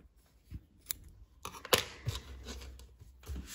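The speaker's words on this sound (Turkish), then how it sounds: "ipi keseceksem şu şekilde bir iki tanesini içerisinden geçiriyorum ve ipimi kesiyorum" Scissors snip yarn on a needlework rug backing, a few sharp close cuts and clicks scattered among quiet handling rustles, no talking.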